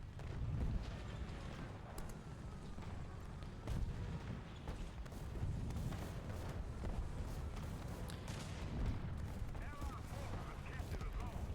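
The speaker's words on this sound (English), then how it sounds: "they changed machine gun sounds on me." Machine gun fire and cannon thuds from tank combat in the video game War Thunder, with faint repeated bursts under a continuous low rumble of battle.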